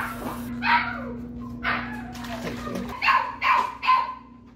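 A young puppy barks and yips indoors, giving several short high-pitched barks spaced a second or so apart, close and fairly loud over a steady low background hum.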